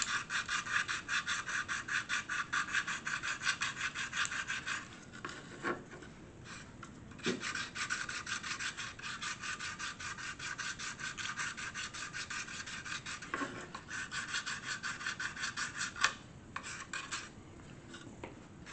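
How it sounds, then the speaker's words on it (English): Dried model putty filler is sanded by hand in repeated rasping back-and-forth strokes, close and fairly quiet, with a few short pauses and light knocks between passes and no talking. "sand it down."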